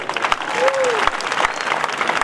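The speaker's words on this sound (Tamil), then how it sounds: "நல்ல கைத்தட்டி கொடு" A rally audience at the Green Kalam Rally on Marina Beach claps in a dense, sustained burst of applause, with some crowd voices mixed in.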